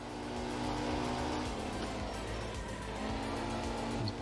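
A damaged Porsche rally car in the video game Art of Rally drives on with a steady engine drone and road rumble, constant and close throughout.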